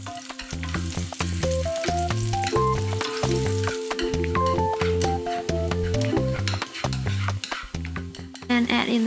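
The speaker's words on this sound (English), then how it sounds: "Fry the shallot until fragrant." Shallots fry in oil in a pan, a busy crackling sizzle with occasional stirring, running steadily under a prominent rhythmic music track.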